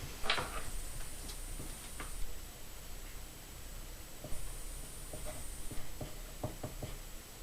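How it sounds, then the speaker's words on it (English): Pen or pencil writing on paper, a scattering of soft scratchy strokes and small taps close by, quiet throughout with no voices. "I'm gonna write that down."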